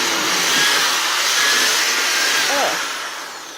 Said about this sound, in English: I'm gonna show you that I could drill in here